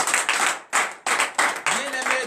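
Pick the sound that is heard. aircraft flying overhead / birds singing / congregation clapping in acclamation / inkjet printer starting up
congregation clapping in acclamation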